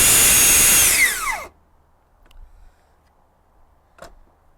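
A Festool TSC55 cordless plunge saw, running on two batteries at its full 5,200 RPM, screams loudly for over a second and then winds down with a falling whine, followed by near silence and a couple of faint clicks.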